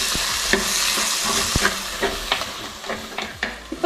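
Tomatoes and onions sauté in a pan for a beef curry, a steady close sizzle with repeated scraping stirs of a spoon and intermittent pops and clicks throughout.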